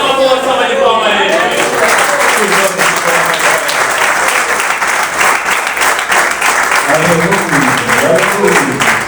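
A church congregation gives loud, sustained applause that fills the room, with a voice speaking over the clapping near the start and end.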